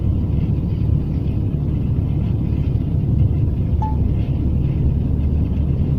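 A car drives through a Polish town at about 50 km/h. A steady, loud interior rumble of engine and road noise runs throughout, broken once by a brief faint beep.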